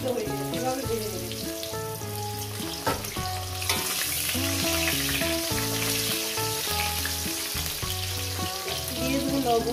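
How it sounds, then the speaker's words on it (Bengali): Salted potato pieces fry in hot oil in a pan beside cooked katla fish, producing a steady, close crackling sizzle with some stirring over quiet background music, with no voices. "আলুগুলো আমি সুন্দর করে লাল লাল করে ভেজে নিচ্ছি"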